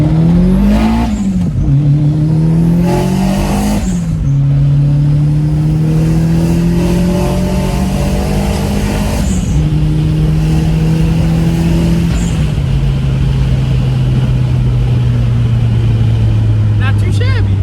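A big-turbo all-wheel-drive Audi sleeper accelerates hard with several passengers aboard, its engine revving loudly and climbing through repeated gear changes, heard from inside the car with voices talking.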